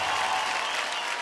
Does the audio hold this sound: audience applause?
yes